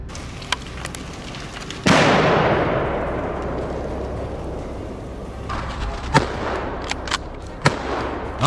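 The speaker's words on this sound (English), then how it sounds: "The sound of gunfire rings out in response, blending with the roar of victory." Gunfire during a wild boar hunt: a single loud blast rings out and decays slowly, followed by several sharp, more distant cracks toward the end.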